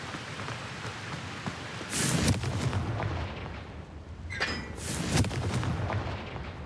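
Blasts from the Confringo fire spell in a Harry Potter video game, two loud broadband bursts around two seconds apart over a steady rumbling game background.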